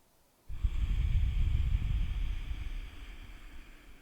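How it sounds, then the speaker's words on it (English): Deep yoga breathing: after a brief quiet moment, one long, slow, airy breath rushes close to the microphone and fades gradually over several seconds. "Deep breath in. And as you exhale, slowly lower down to your back."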